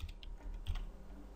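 Keys on a computer keyboard are tapped a few times in quick succession, soft and close, over a low steady hum, with no voices.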